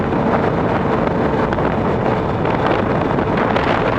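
A Yamaha FZ-09 motorcycle on a demo ride, heard from the rider's position as a loud, steady roar of engine and rushing wind buffeting the microphone, with no clear breaks.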